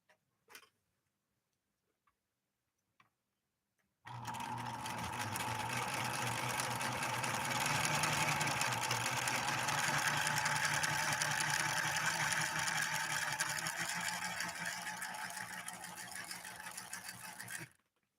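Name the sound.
1970s Viking 3600 sewing machine sewing a blind hem stitch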